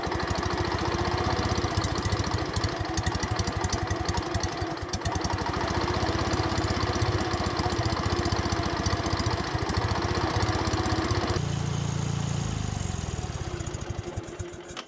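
A 1950s wood splitter's small engine runs close and steady after a touch of choke, a continuous mid-pitched drone that drops to a lower, rougher note near the end.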